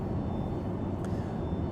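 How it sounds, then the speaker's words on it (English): A steady high-pitched hydraulic whine runs through the cabin of a Boeing 727-200 in a flight simulator game, sitting faintly above a constant broadband roar of cockpit and engine noise in cruise. "that high-pitched whine, hear it going in the background"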